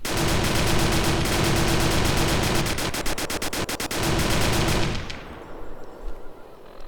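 An automatic rifle from a Fallout: New Vegas weapon mod fires long rapid bursts, a loud close stream of evenly spaced shots that cuts off sharply and leaves fading echoes behind.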